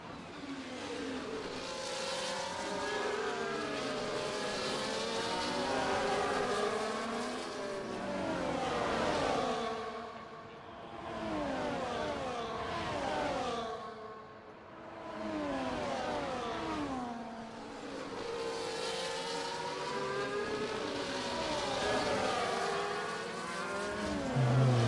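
Formula 1 race cars in the F1 24 video game at the Brazilian GP scream past in a continuous loud roar, engines revving and shifting in sweeping waves with no talk.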